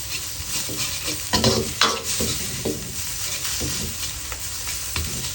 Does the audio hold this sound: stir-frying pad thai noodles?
yes